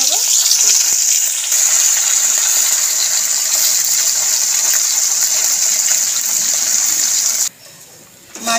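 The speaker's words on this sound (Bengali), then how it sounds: "এরমভাবে সবকটা মাছ ভেজে নেব।" Small mourala fish frying in hot oil hiss with a loud, steady, close sizzle that carries on unbroken before dropping away abruptly near the end.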